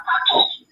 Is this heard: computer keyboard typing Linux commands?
no